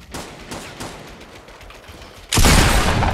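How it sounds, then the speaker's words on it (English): Assault rifle fire in Fortnite: scattered distant shots early on, then a loud, dense burst of close gunfire that fills the last second. "Someone was shooting with an AR."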